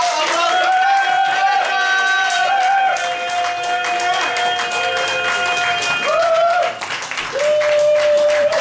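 A comedy club audience bursts into sustained applause, a dense patter of clapping with whoops, while a performer's voice carries loudly over the top.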